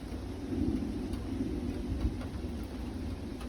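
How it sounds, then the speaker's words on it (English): Steady, soft rain hiss with a low rumbling undertone, continuous and fairly faint, like a shower setting in outdoors. "And it's starting to rain."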